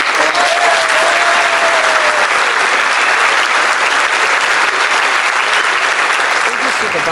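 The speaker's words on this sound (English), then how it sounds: "please give Scott a round of applause" Loud, dense applause from boxing fans filling a venue for Scott Quigg, a continuous roar of clapping with crowd noise throughout and a brief high whistle near the start.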